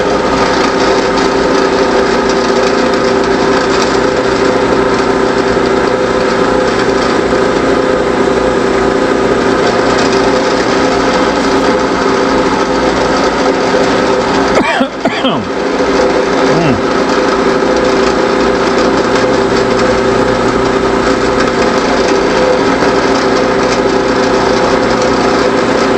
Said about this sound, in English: we'll drill those two